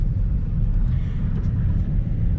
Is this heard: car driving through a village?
yes